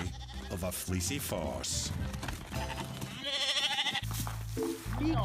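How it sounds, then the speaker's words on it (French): Several sheep bleat loudly and repeatedly, overlapping close by, with other farmyard noise around them. "Les moutons s'éparpillent comme des quilles sur une piste de bowling."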